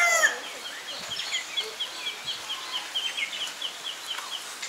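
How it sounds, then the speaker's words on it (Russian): Birds calling at a zoo in Mauritius, a steady chorus of small chirps and clucking fowl sounds repeating at moderate distance over quiet ambient background, with no one speaking. "Вот она птичка, вот она,"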